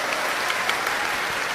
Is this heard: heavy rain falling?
no